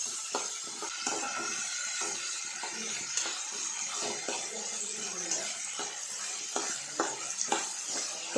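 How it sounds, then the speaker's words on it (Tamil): Ridge gourd and green chillies sautéing in a pan for chutney, a steady soft sizzle broken by scattered light clinks and scrapes of stirring, with no voices. "இப்போ இது எல்லாத்தையுமே நல்லா வதக்கி விட்டுருங்க."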